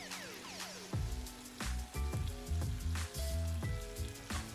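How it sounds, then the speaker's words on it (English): Diced sausages frying in a pan of chutney and spices give a steady sizzle, broken every second or so by loud clattering scrapes and knocks as the mixture is tossed and stirred, close and with no voice. "So I would let it fry all together for a couple of minutes."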